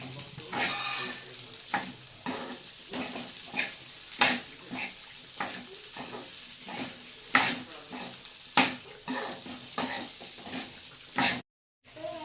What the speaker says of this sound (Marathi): तर त्याच्यामध्ये मी थोडा साबुदाणा टाकते. आणि साबुदाण्यामध्ये मी चांगलं परतून घेते